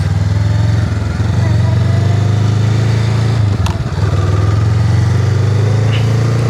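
A motorcycle engine hums steadily up close, dips briefly as the clutch engages, then carries on under throttle as the bike pulls away, with a faint voice in the background.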